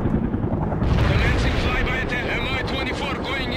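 Artillery bombardment in the war video game World in Conflict: heavy, rumbling blasts and booms roll together into a continuous, dense roar, with faint game voices in the mix.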